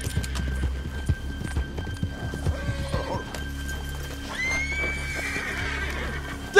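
A horse in the Red Dead Redemption 2 video game whinnies loudly, with hoofbeats clopping and a steady in-game hum and ambience underneath; the neigh rises clearly near the end of the stretch.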